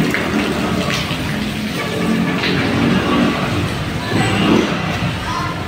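A river flows under a road bridge at Road 10, a loud continuous rush of water with a busy, churning texture, with faint voices and ambient noise mixed in behind.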